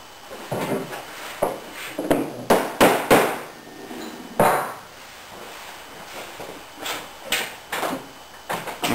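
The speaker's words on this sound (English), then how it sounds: "I'm going to go back now and whack it on the end with my hammer and a piece of driftwood" Sharp hammer blows strike a piece of driftwood to drive a wooden rail into place, in uneven bursts, some in quick pairs, loud and close, with short quiet gaps between strikes.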